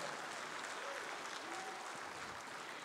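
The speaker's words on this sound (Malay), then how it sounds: "Satu tepukan juga untuk Yang Amat Berhormat Perdana Menteri kita." Faint, steady applause from an audience at a formal Pahang state event honouring the Prime Minister, a continuous wash of distant clapping with no other sound standing out.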